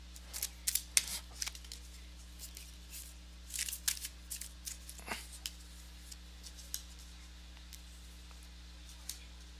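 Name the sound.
shuffling tarot cards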